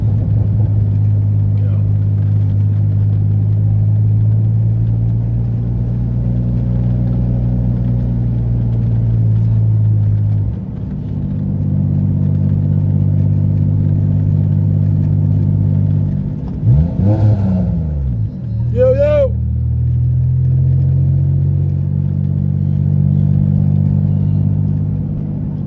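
Mitsubishi 3000GT SOHC engine and exhaust while driving, a steady low rumbling drone with a shift-like dip and rise midway, continuous and close, with occasional talk over it.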